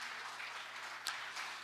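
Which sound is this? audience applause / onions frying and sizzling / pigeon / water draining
audience applause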